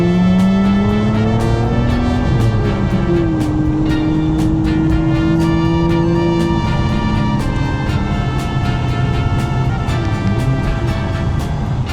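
Nissan Skyline R34 V-Spec with its RB26 engine drives past loudly and up close, its revs rising and dropping through gear shifts over a continuous engine roar.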